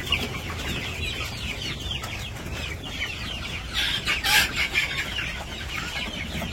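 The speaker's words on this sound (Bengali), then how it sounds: "তো আপনাদের সকলের দোয়ায় মোটামুটি মুরগিগুলো ভালো বড় হইতেছে" Chickens on a village farm cluck and chatter continuously at close range, with a brief louder burst of squawking midway and a low outdoor background hum.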